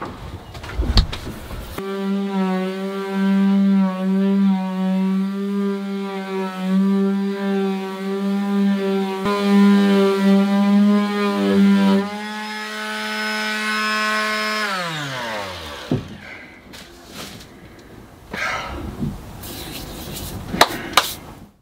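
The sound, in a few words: sanding the bedroom ceiling of a narrowboat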